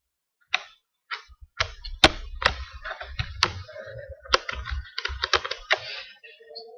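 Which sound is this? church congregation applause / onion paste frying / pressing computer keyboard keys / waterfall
pressing computer keyboard keys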